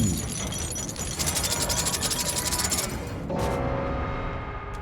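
A generator being repaired in Dead by Daylight: rhythmic mechanical clattering and ratcheting, with a fast pulsing rattle in the middle, steady and moderately loud with no voices.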